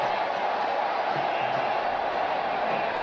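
Home crowd at a women's T20 cricket match, a steady broadband roar of many voices filling the whole stretch with a brief swell of cheering partway through, close and continuous.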